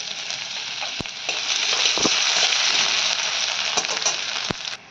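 Chopped garlic and ginger frying in hot oil for chilli chicken gravy, a loud bright hiss that swells after the first second and holds steady, with several sharp clicks as the pieces are stirred, close and without speech.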